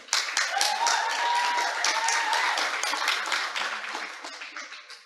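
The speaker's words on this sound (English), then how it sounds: "Can we get another round of applause for Mr. Brown?" A large audience at a secondary school graduation ceremony applauds a speaker: dense, bright clapping from many hands, steady for several seconds before gradually thinning and fading out.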